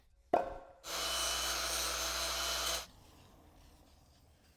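The old exhaust manifold of a 1966 Barracuda V8 is scraped in one steady, harsh stroke lasting about two seconds, just after a short knock, with quiet background afterward.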